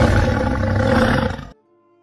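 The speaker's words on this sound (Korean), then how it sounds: "노승은 호랑이 가죽을 뒤집어 쓰더니 갑자기 큰 호랑이로 변했고 총각의 겉옷을 밟고 서서 산이 떠나갈 듯 으르렁거렸습니다" A tiger roar sound effect for a folk tale in which a monk turns into a great tiger: one loud, deep, sustained roar lasting about a second and a half, then breaking off abruptly into silence.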